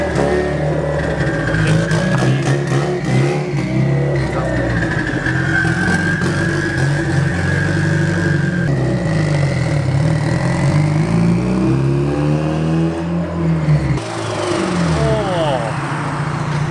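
A big-turbo Mitsubishi Evo engine idles and revs loudly up close, its pitch rising and falling over a sustained drone, with a blow-off valve hiss near the end and people talking underneath.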